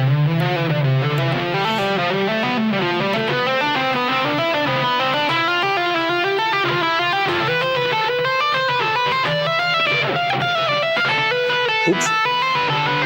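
Distorted electric guitar plays rapid two-handed tapping runs at a brisk tempo in groups of seven and six notes, steady and up close, with no talking.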